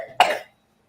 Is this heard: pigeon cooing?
no